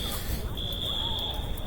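A faulty school fire alarm sounds a sustained high electronic tone that drops briefly and then holds steady, heard indoors over a busy background of low noise.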